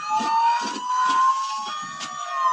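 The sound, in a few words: siren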